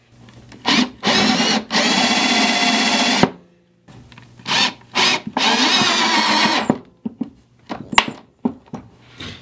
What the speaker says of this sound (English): we'll switch over and countersink a hole or a screw in there